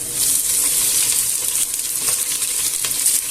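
Chopped onion, pepper and garlic soften in a hot pan, giving a steady, close, bright sizzle throughout with a few faint stirring clinks.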